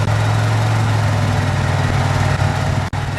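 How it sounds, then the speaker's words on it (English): A restored 1969 Oldsmobile 98 convertible with its 455 V8 rumbles loudly and steadily as the throttle opens on a top-down drive, a dense continuous engine drone with no talk. "Get in the throttle here a little bit."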